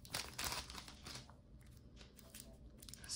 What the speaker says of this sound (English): Get this tape out of the way.